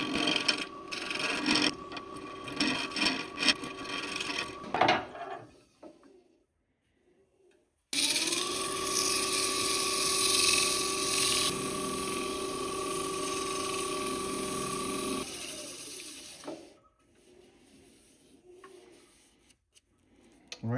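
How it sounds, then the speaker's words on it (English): Carbide tool shaving high spots off a black oak knot spinning on a wood lathe, a steady whirring hum with scraping in the middle stretch, preceded by choppy tool clatter and followed by quieter spin-down. "I'm just gonna take the high spots off with the carbide and then sand it."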